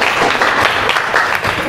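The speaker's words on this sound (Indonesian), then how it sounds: "Boleh tepuk tangannya." Students in a junior high classroom clap together, a loud, close burst of dense hand claps that holds steady for under two seconds.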